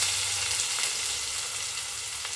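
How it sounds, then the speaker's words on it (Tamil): Chopped onions frying in hot oil with popped mustard seeds, a steady broadband sizzle filling the pan continuously from start to finish with no voices. "நம்ம வெட்டி வச்சுருக்க வெங்காயத்தை இதில் ஆட் பண்ணிக்கலாம்."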